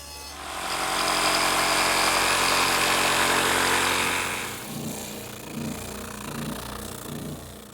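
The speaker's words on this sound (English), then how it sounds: "key to doing it on the table saw is to have a table saw surface that's very slick" Table saw ripping wood along the fence, a loud broadband whine for about four seconds that then drops to a lower running hum as the cut ends, close up, no talking.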